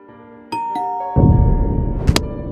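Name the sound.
doorbell ringing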